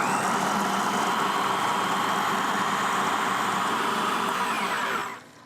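A blender whirls parsley and garlic until fine, a loud, steady motor whir that runs without a break for about five seconds before cutting off abruptly.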